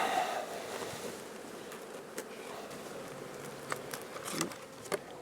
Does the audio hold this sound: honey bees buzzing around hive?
yes